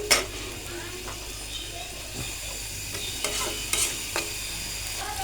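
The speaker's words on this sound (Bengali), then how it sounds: "এই জন্য আমি পেঁয়াজটা ভেজে নেব।" Onion frying in a pan: a continuous soft sizzle with repeated spoon scrapes and stirring knocks, close by, with faint voices in the background.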